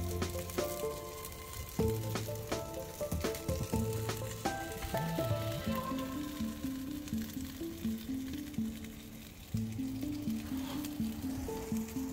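Fresh caught New Zealand kahawai fish sizzling on a rocket stove inside a teepee, a steady crackling fry beneath quiet background music, close and continuous.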